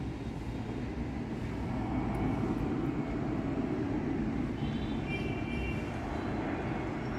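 A Vietnam Airlines airplane passes overhead above a garden of young fruit trees, a steady, fairly loud low roar that holds evenly throughout with no voices.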